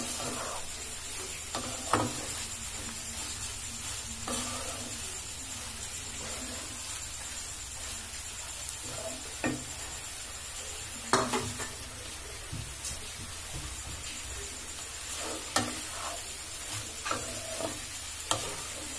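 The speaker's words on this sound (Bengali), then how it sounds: "স্লাইস ফ্রাই করা এগ আমি এতে দিয়ে ভালো করে নেড়ে নেব" A spatula scrapes and knocks against a frying pan as sliced fried egg is stirred, irregular clatters over a steady close sizzle that runs throughout.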